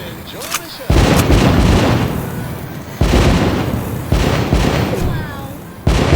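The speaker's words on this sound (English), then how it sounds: "Do the honors. Light up those fireworks." Fireworks explode in the VR game The American Dream, several loud booming bursts in a row, each followed by a crackling, fading rumble.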